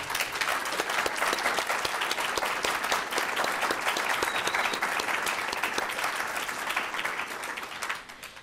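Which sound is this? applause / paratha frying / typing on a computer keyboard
applause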